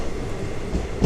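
Special train 07653 from Cherlapalli to Tirupati runs on after leaving Ongole, a steady low rumble of rolling carriages heard from inside, close and continuous, with no talking.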